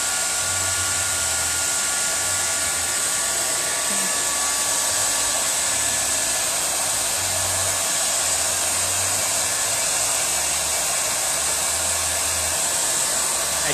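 A hair dryer drying paint runs continuously and close for the whole stretch, a loud, even rushing blow with a steady motor whine and no pauses.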